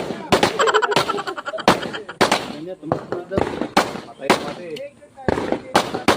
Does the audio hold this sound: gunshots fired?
yes